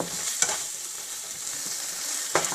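Boiled, grated carrots cooking in a pan for Bombay pav bhaji make a soft, even frying hiss, broken by two sharp spatula scrapes near the start and end, close by with no talk.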